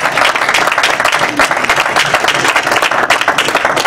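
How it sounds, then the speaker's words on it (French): An audience applauds loudly and continuously, close clapping from many hands filling the room, apparently at a gathering honouring a pastor's wife, with a voice faintly present beneath. "Applaudissez très fort."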